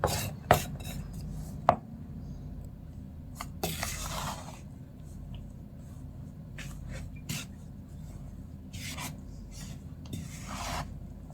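A spatula scrapes and rubs through thick, heavy cookie dough flavored with rendang, giving quiet, close, irregular strokes and occasional sharper knocks against the bowl.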